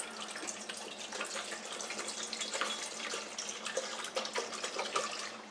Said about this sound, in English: I'm just going to dump some water in there.